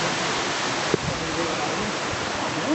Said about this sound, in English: I think it's a really big waterfall.